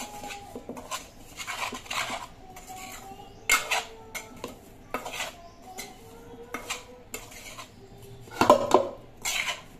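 Spoon clinking and scraping against a bowl or pot while gooseberry pickle ingredients, chilli powder, salt, mustard and fenugreek powder, oil and lemon juice, are mixed together, in irregular clatters and scrapes close by, louder near the end.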